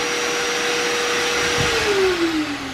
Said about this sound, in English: that backup sound that just kicked on, he's got this thing hooked up to a dust, like vac